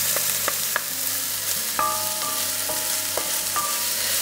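Onion, garlic and harissa sautéing in a frying pan, a steady close sizzle with scattered utensil clinks and scrapes as the mixture is stirred throughout.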